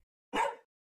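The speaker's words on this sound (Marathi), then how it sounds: "कुत्र्यांच्या भुंकण्याचा आवाज" A dog gives a single sharp bark, close and clear, followed by silence.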